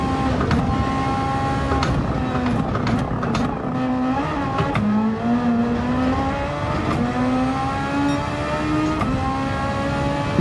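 A race car engine in Gran Turismo 7 drones loudly from the onboard view, its pitch rising and dipping through shifts and corners in a continuous, close whine.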